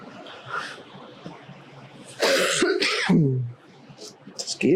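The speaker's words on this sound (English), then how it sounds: "Excuse me. Yes, I still have my cough." A woman coughs and clears her throat, a couple of harsh, close bursts in the middle, with quiet talk before and after.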